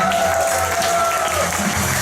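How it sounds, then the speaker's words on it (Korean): Audience applause at a first birthday party, a broad wash of clapping from a crowd with a sustained tone and faint background voices beneath it, steady and fairly loud for the whole stretch. "다시 한번 큰 박수 드리겠습니다"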